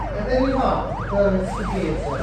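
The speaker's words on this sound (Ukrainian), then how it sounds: "Включаю мігалки." Police car siren in the Vaz Crash video game, a steady wailing tone rising and falling about every half second, loud and continuous under engine rumble throughout.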